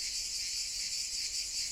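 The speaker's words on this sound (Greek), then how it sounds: "Έχει τα τζιτζίκια." Cicadas buzz in a Greek village in summer, a dense, steady high-pitched drone that stays close and constant throughout with no voices.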